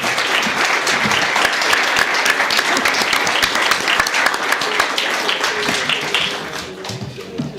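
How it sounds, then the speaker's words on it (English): Audience applause for at-large candidates at a city park board candidate forum, a dense steady clapping from a sizable crowd that holds for most of the stretch and then thins near the end. "you can show your appreciation for the candidates by your applause"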